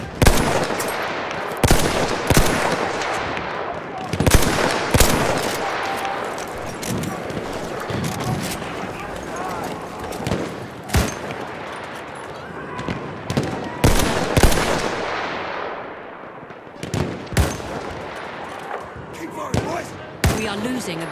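Rapid bursts of machine gun fire in a Battlefield 1 multiplayer battle, loud and repeated in short volleys with scattered gunshots, heard under ongoing shouted talk.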